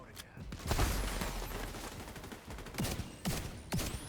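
Small-gun gunfire in the Battle for Brooklyn video game: a few sharp cracking shots scattered over a few seconds amid other game noise, fairly quiet overall.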